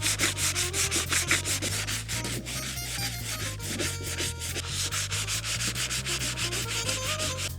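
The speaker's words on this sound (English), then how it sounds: "Got the sandpaper. Maybe I'll use this block to help me." A sandpaper block rubs lacquer off an antique sewing machine in repeated rhythmic strokes, close and scratchy, with no talking.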